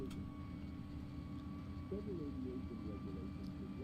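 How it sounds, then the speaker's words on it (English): Jet engine spool-up on an Embraer E145XR in the X-Plane flight simulator, a steady low rumble and hum with a rising whine joining about halfway through, continuous and moderately loud. "And we'll start engine number 1."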